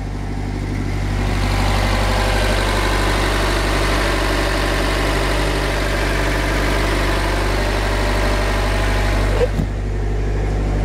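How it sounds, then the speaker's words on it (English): A steady outboard engine on a 1994 Harris Admiral 28ft pontoon boat idles nearby, a constant low rumble with mechanical vibration that holds evenly throughout, ending with a brief knock near the end. "I'll show you the engine real quick."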